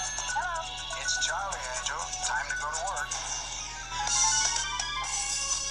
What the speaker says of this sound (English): Nothing breaks up a meeting better than having Charlie's Angels play.